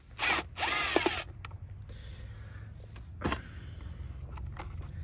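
A power drill with an 8mm socket backs a screw out of an F150 grille in two short whirring bursts, then comes a quieter stretch with a faint mechanical click.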